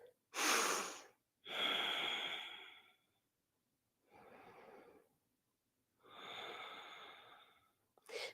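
Deep breaths taken during a relaxing yoga session: several slow, audible inhales and exhales in a steady rhythm, close and fairly loud, with quiet pauses between them and no talking.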